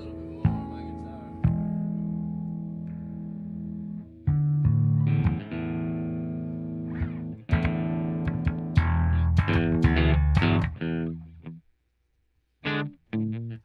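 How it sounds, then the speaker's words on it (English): Distorted electric guitar riffs with effects, sustained chords and bursts of picking, cutting out briefly near the end before a final short strum. "I'm gonna turn up just a little bit more on my guitar."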